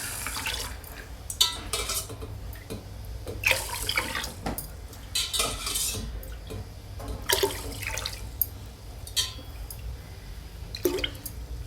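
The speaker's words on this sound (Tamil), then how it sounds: "இப்போ நான் ஒரு 4 டம்ளர் தண்ணி ஊற்றிக்கிறேன்." Water is poured onto washed rice and lentils in a cooking pot, coming in irregular splashing bursts with drips and a few clinks of metal between pours.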